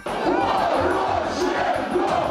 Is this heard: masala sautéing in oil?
no